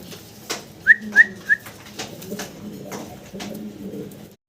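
A big-size Mundian blue bar pigeon pair coos softly and low nearby, while three quick clear chirps ring out early on, followed by scattered rustling and clatter.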